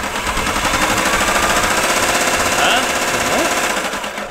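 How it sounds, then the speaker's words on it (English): A SunJoe battery-powered reel lawn mower runs steadily and close by, its spinning blades giving a dense, rapid clattering whir that holds constant throughout. "SunJoe battery powered reel mower."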